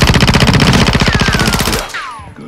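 Rapid automatic gunfire in the video game Modern Warfare 2, a loud, close, evenly spaced burst of shots that cuts off abruptly into a brief ringing tail.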